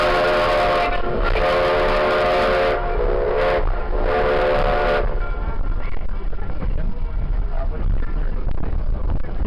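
A train crosses a road with a loud, steady rumble while its horn sounds in several long and short blasts, then the horn stops and the rolling continues.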